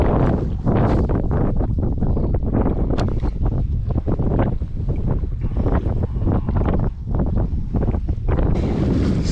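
Strong gusty wind buffets the microphone over a lake during kayak fishing, loud roaring bursts that surge and fade unevenly throughout, with no voices.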